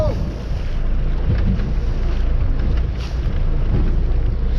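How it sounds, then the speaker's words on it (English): Steady roar of wind buffeting a microphone on a boat on San Luis Reservoir as high waves slap the hull, a loud continuous rush with no clear speech. "Damn waves are high."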